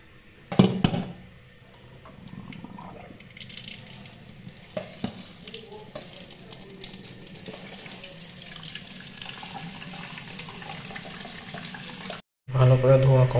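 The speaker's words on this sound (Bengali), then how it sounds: "প্রথমে গাজরটাকে ভালো করে ধুয়ে নেব।" Tap water runs steadily into a sink while carrots are washed for a carrot halwa with jaggery, with a sharp clatter at the start and louder splashing at the end.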